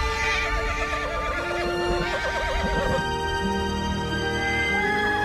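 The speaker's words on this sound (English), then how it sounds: "Urged by its neighs and calls, the herd finally enters the wetland" A herd of horses in the Gobi Desert neighing and whinnying repeatedly, loud and close, entering a wetland, with a steady hoofbeat-like clatter underneath and a wash of background sound.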